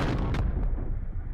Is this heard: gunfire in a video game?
yes